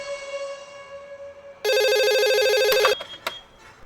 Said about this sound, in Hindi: तेरे लिए फोन है रमेश का।